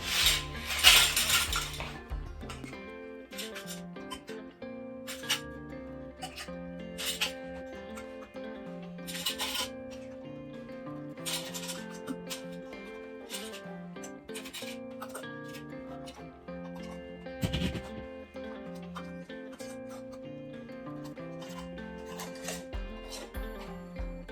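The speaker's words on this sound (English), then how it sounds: "Now I can put the lids." Lids are set onto glass jars of pineapple preserves in a kitchen, with scattered clinks and taps of metal on glass and soft handling noises at low level, and no talk.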